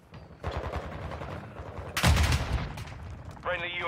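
Call of Duty Modern Warfare 2 gunfire in an Invasion match, a dense clatter of rapid shots near and far, with a sharp loud burst midway and a voice talking underneath.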